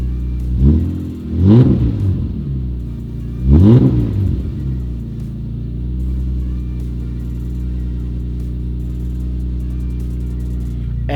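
Car engine revved three times in quick blips while warm, each rising and falling, then settling into a steady idle rumble for the rest of the clip.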